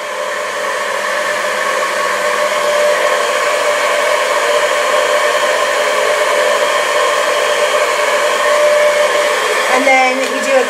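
A hair blow dryer blowing steadily on a curl, a loud, continuous close-up whir and rush of air that holds level throughout, with a brief shift in tone near the end.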